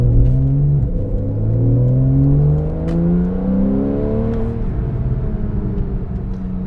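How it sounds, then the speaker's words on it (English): A Porsche 911 991 Carrera 4S with a naturally aspirated engine revs hard, its loud, close note climbing steadily through the rpm range and then settling into a sustained, rising howl as it accelerates, with no voices. "This thing is naturally aspirated. You get all the sounds. It's not muffled through a turbocharger."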